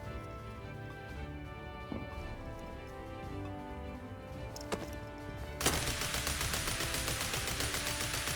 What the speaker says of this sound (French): Tir automatique.